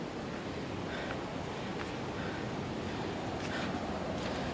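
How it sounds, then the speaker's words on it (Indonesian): Surf breaking along the beach below the Gua Cina cliffs in South Malang, a steady broadband wash of waves under wind noise, continuous and fairly distant with no voices. "Di bawah suara deburan ombak."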